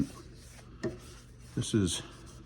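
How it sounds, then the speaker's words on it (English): A cloth wiping finish onto a desert ironwood and masur birch knife handle gives a few short, close rubbing strokes, the last two longer and scratchier, over a quiet background. "Why I'm doing the incessant wiping is to make an even coat"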